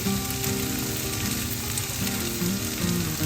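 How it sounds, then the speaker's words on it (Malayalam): Paneer cubes frying in a pan give a steady, dense sizzle with faint bubbling and crackle throughout, close and continuous with no talk. "പനീർ ഒന്ന് ഫ്രൈ ആയിട്ട് വരണം."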